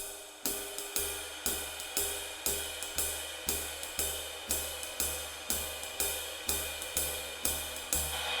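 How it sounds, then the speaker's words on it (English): A jazz ride cymbal rings in a steady, even beat accenting quarter notes, each stroke struck cleanly and decaying into the next, played alone at moderate volume. "Now this is an excellent ride cymbal beat."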